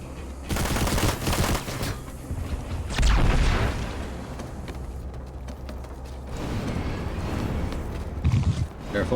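A frag grenade thrown and detonating in the sci-fi shooter Planetside 2, a heavy booming blast around the three-second mark amid surrounding gunfire and battle noise, with a voice talking over it.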